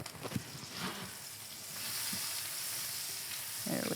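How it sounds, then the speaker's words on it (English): Butter sizzles in a hot pan with a little oil, a soft continuous hiss that swells a bit partway through, with a few scattered knocks and pan movements. "so in goes the butter."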